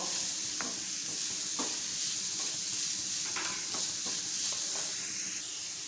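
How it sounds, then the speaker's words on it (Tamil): Grated carrot sautés in a hot pan with a constant loud sizzle and hiss, broken by faint periodic scrapes of stirring, close up and without talk. "சேர்த்து மிக்ஸ் பண்ணி விட்டுக்கோம் கேரட் நல்லா வதங்கி வரட்டும்"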